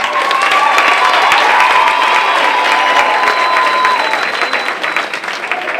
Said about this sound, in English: And yes, you may applaud.